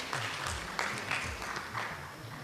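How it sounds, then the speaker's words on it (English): An audience at a gynecology and obstetrics society's zonal meeting applauds steadily, a dense wash of clapping at moderate distance that continues evenly for a few seconds without any voices. "A big round of applause to our outgoing president, Dr. Sajjan sir."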